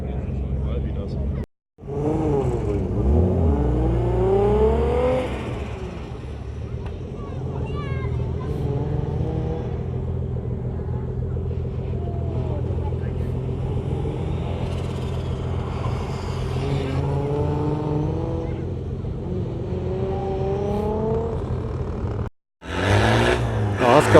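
A turbo diesel TDI car drives nearby, its engine droning and rising through gear changes under the steady hum of a moving vehicle, with people talking over it throughout.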